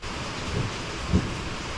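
Steady, dense rain hiss pouring down with a continuous roar, a couple of soft low thuds rising briefly through the wash.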